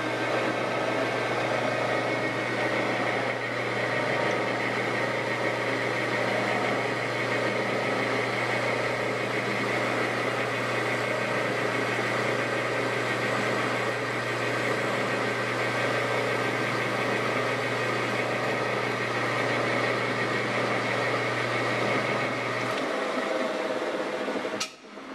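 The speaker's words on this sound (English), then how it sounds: "I got this boring bar out 6 inches because that's how far I need to bore into this piece of aluminum" Lathe boring bar extended six inches cutting into an aluminum workpiece for a 5C to MT5 drawbar, taking light 20-thousandths passes; a steady, continuous machining hum with a low motor drone runs throughout, then stops near the end.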